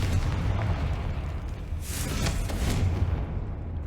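A Confringo blasting spell explosion in Hogwarts Legacy, a loud, rumbling boom with a crackling burst mid-way, decaying into a low roar.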